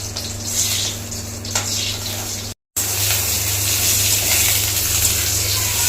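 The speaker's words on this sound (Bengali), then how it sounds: "পুরনে যাচ্ছে পেঁয়াজ আর তেজপাতা" Onions and bay leaves frying in oil with dried chillies in a pan, a loud steady sizzling hiss that cuts out briefly and then resumes, with no talk over it.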